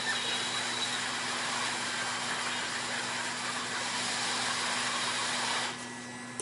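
A hot air rework station blows steadily on the chips of a computer motherboard, a loud continuous hiss and whir that drops off sharply near the end.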